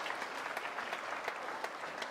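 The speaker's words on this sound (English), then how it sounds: "please can I also have a big round of applause for our judges who are here today" A school assembly audience at a junior public speaking competition claps for the judges, an even, moderately loud spread of many small hands clapping with occasional sharper individual claps.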